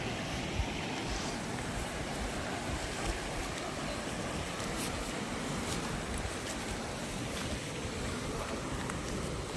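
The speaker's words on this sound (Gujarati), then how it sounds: "છે આ મિત્રો જે આપણે છે ધોધ પડે છે પાણીનો" A waterfall on a river pours steadily, a continuous broadband rushing roar with constant loudness throughout, no voices.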